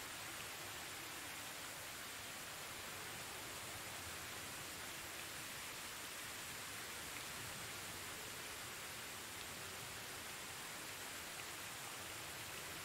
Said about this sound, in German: Boah, der Regen, ey.